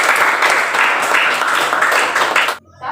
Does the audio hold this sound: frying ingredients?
no